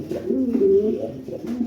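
A large pigeon of a breeding pair, sitting on eggs, coos in low, throaty rolling phrases, close and steady, with no talking over it.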